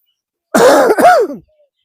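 A single person clears their throat with a short, rough cough, near and loud, lasting under a second before silence.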